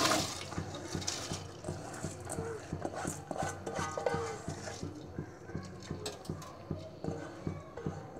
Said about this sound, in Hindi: अब हम चावल डाल देंगे।